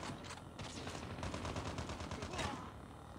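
Gunfire in Call of Duty, a dense string of rapid shots rattling in quick bursts across a few seconds, moderately distant and fairly even in loudness.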